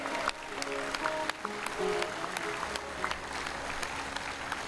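An audience claps in a lecture hall on yoga and Ayurveda: a dense, even, sustained round of applause with a few louder individual claps standing out, no voices over it.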